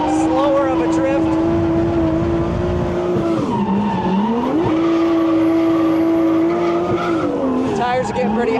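BMW with a swapped 1JZ engine drifting while left-foot braking, a loud sustained engine drone that dips and climbs in pitch, with tire squeal and skidding noise throughout and a voice speaking over it.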